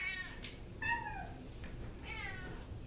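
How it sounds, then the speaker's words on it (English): A house cat meows several times in a family home, each call a distinct rising-and-falling cry with pauses between, fairly clear over faint background noise. "Even the cat's getting into it."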